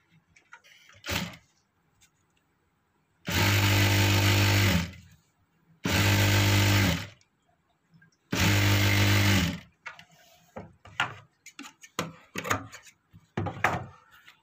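Sewing machine stitching a frill onto a sleeve: three loud, sustained whirring runs of several seconds each, separated by pauses and small handling clicks.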